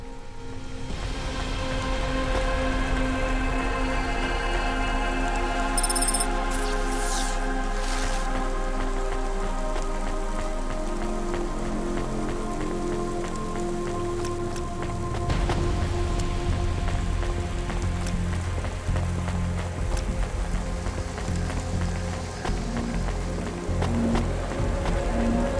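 Rain falls steadily in the rainy city streets of the video game Cloudpunk, a continuous pattering hiss with a few faint tonal chimes over it and no talking.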